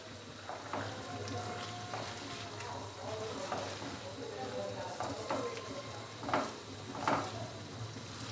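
Aloo matar gajar curry with freshly chopped coriander being stirred in the pan, soft sizzling and a few scraping strokes of the spoon under a steady kitchen hum.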